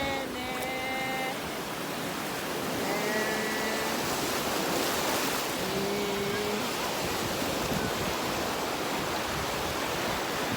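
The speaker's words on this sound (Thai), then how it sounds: "ทะเลเลยแหละ" Sea waves wash onto a beach in a steady broadband hiss and roar that swells slightly midway, with faint brief voices heard early on beneath the surf.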